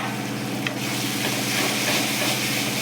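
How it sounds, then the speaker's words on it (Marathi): Pav bhaji mash being stirred and fried in a pan, giving a steady, close sizzle with soft scraping from the stirring and one small tap, and no talking. "म्हणजे की हलवतच राहायचं."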